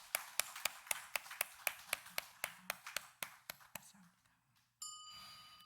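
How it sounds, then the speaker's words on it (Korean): A church congregation gives a short burst of rhythmic, evenly spaced clapping in unison, about a dozen sharp claps that fade out, followed by a faint tone. "우리 하나님께 감사의 박수를 올려드리시겠습니다"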